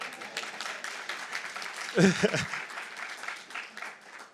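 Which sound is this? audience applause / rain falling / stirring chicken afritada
audience applause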